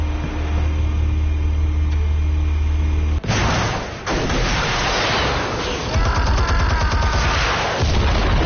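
Game gunfire and explosive blasts in a PS4 shooter, with a dense burst of shots breaking in midway after a steady hum and continuing in loud bursts to the end.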